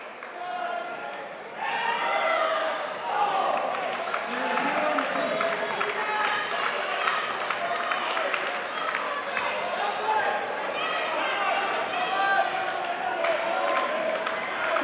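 Indoor cricket crowd at the 2013 Masters World Series final, Australia versus New Zealand, cheering and clapping in a steady, loud din that runs throughout, with a sharp bounce or slam standing out and voices mixed in.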